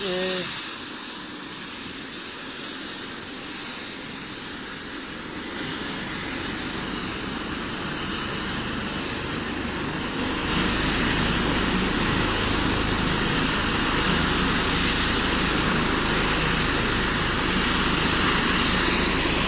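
A loud, continuous engine and rotor roar from a nearby air ambulance helicopter on a tarmac pad in Warsaw, growing steadily louder and more intense through the clip.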